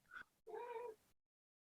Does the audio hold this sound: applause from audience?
no